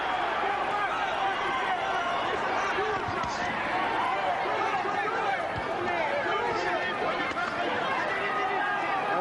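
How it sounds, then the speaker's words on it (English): Loud arena crowd at a heavyweight boxing title bout with Larry Holmes, a steady roar of cheering and shouting voices that never lets up. "Crowd urging Holmes on as we approach a minute left in the bout."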